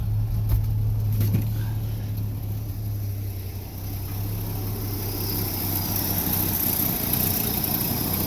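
A 1965 Ford F100 pickup engine idles steadily on its manual choke, a low, even rumble that runs close and continuous throughout.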